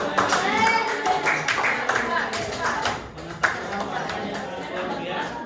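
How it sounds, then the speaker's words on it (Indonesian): A class claps for a classmate, a steady patter of many hands under excited children's voices and chatter, fairly loud throughout. "Tepuk tangan buat teman kita."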